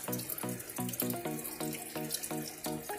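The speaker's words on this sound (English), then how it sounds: "we need to sort out the angle of the waterfall" Water trickles down an artificial waterfall inside a reptile enclosure as a steady, close flow with rhythmic, ringing splashes and no voices.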